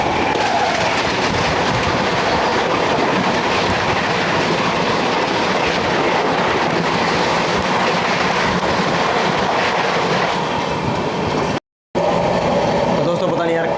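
Train running past the Anand Vihar–Prayagraj Humsafar Express at a crossing, a loud continuous rolling roar with clattering wheels on rails throughout, briefly cut by a short gap near the end.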